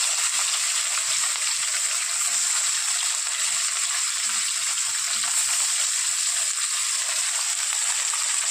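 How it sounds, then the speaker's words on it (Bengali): Fish frying in plenty of hot oil in a wok, a loud, continuous close-up sizzle and bubbling hiss that holds steady throughout with no talking. "বেশি করে তেল দিয়ে দিলাম, মাছটা যাতে লাল লাল করে ভাজা হয়ে যায়"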